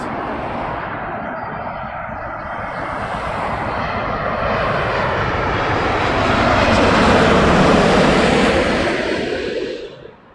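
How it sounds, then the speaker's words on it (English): An American Airlines Boeing Dreamliner jet passes at Heathrow Airport, its engines a loud continuous roar that swells to a peak near the end and then fades off. "Dreamliner, American Airlines."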